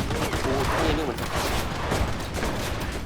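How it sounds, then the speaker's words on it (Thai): Gunfire in the World War II shooter game Enlisted, a dense, continuous fusillade of shots with a voice talking over it. "นี่มันยิงกูหรือวะ"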